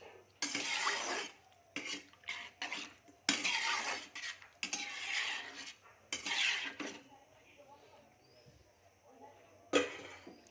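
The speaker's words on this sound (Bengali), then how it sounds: "এবার নেড়ে ছেড়ে ঢেকে দেবো।" Paneer curry with vegetables being stirred in a pan, with bursts of metal spoon scraping and clattering against the pan separated by quiet gaps, then a lid clanking down near the end, all close up.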